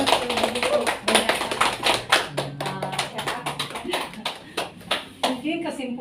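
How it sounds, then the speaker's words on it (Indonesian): An audience claps in a crowded room at a school event on positive school culture, a loose patter of hand claps running throughout, mixed with nearby voices talking. "Sebelumnya tepuk tangan dulu"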